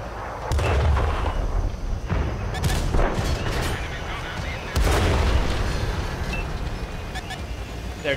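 Booming artillery fire in a tank video game: a few heavy, distant-sounding blasts with rumbling tails over steady battle noise, while people talk throughout.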